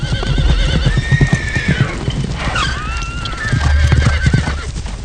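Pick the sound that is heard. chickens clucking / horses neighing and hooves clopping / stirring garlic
horses neighing and hooves clopping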